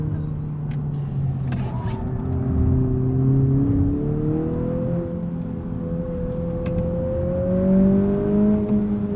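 A 2020 Honda Civic Si with a limited-slip differential drives hard through winding mountain corners, its engine note rising and falling in a steady drone with gear changes, heard from inside the cabin.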